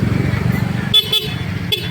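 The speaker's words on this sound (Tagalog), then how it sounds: "Okay, stock na busina pa rin sir" A Yamaha Mio Soul i 125 scooter sounds its stock horn in two short honks. The beeps ring out close over the scooter's running engine.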